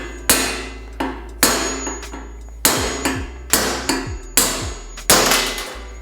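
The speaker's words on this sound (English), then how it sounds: "we'll just take that hammer and hammer down on this Park tool to see how easy it is to get this race out" A hammer repeatedly strikes a Park tool to drive out a dirt bike's steering stem bearing race: about eight sharp, ringing metallic blows at an uneven pace, close and loud, each followed by a brief decay.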